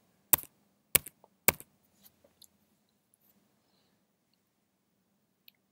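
Three sharp keyboard key presses, about half a second apart and close to the mic, are followed by a few fainter clicks and a single late tap. Between them the room is near silence, with a low hum.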